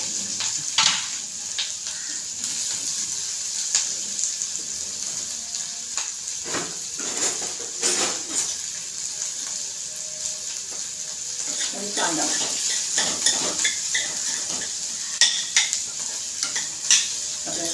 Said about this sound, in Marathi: मी कांदा टाकते ह्या कढईमध्ये तेलाचीच कढई होती त्याच्यामध्ये कांदा टाकते